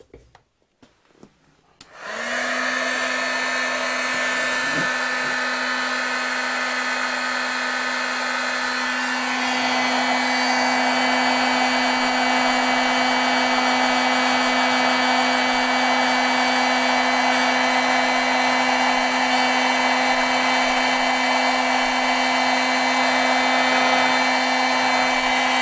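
Heat embossing tool blowing hot air over embossing powder on a stamped card, switching on after a brief pause into a steady, close whirring hum with a constant tonal whine that swells slightly partway through.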